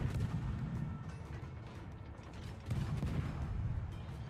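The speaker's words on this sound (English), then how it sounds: "Montana has fired his main guns." Battleship main guns fire in the naval game World of Warships. A dense, booming rumble carries the whole clip, swelling at the start and again in a heavy surge partway through, with no voices.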